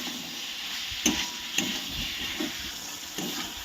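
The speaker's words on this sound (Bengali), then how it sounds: "এবার আলুর সঙ্গে মশলাটাকে একটু ভালো করে মিশিয়ে নেব।" Fried potatoes are stirred into cooked spice paste in a pan, with a soft, constant sizzle punctuated by several distinct spoon scrapes at uneven intervals, close and unaccompanied by talk.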